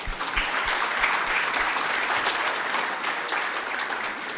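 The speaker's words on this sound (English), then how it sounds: "please give a special round of applause for these colleagues" Sustained applause from an audience at a university end-of-year gathering, a full, steady crowd of clapping hands that holds at a constant level for several seconds, with a few sharper individual claps near the start.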